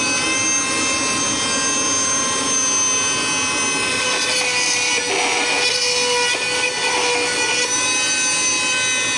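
A power drill widening a hole in a Subaru WRX whines continuously at a steady high pitch, its tone holding without pause throughout, close and fairly loud.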